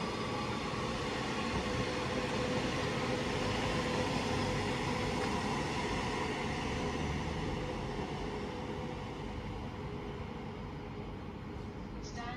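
Class 323 electric train 323017 pulls away from Cheadle Hulme station toward Manchester Piccadilly, a steady broad rumble and motor whine that holds level and then slowly fades as it recedes.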